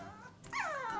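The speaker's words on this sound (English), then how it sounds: "My dog is super whiny." A Pomeranian puppy whines indoors in the evening, one short, high, tonal cry that rises and then slides down, heard close and alone.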